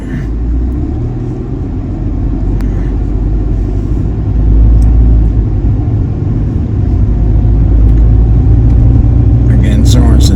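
A car drives at a steady pace through a residential St Louis Park neighborhood in Minnesota, its low engine rumble and road noise constant and close throughout, with no talk.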